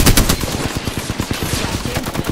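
Rapid automatic gunfire in the Apex Legends video game, a loud continuous burst of evenly spaced shots rattling close up for a couple of seconds.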